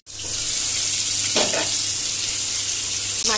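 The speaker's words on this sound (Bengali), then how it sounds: "মাছ কিন্তু ভীষণ ফাটে, তো ফটাফট এটাকে আমি কভার করে দিচ্ছি" Fish hisses loudly in hot oil in a kadai, a dense continuous sizzle close by, with a couple of brief sharper spatters and no talking.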